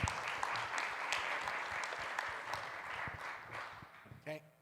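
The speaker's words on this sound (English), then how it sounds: "let's give a round of applause for Dennis" An audience at the GNU Radio Conference 2025 applauds a speaker with steady, dense clapping that fills the room for several seconds before thinning out, and faint voices come through near the end.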